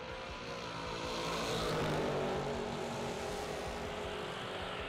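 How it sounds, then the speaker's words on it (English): Drag race cars, a Chevy and a Vega, run down the track together, producing a steady, loud engine roar that swells and fades slightly across the run, with no voices. "Got the Chevy twice-styled 626. Going to take on Cole Jumper. Jumper in the Vega"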